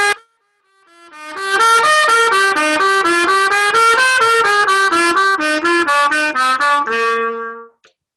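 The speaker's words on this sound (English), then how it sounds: "And if I play D D D," Close, loud trumpet plays a smooth stream of rapid notes, softly "D" tongued so they run together with barely any break, ending on a held tone.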